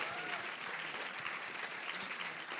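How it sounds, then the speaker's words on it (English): Brief burst of live audience applause for comedian Tim Key at an Edinburgh Fringe 2014 radio show recording, dense and continuous clapping from a crowd, heard at a moderate distance. "Round of applause for Tim Key."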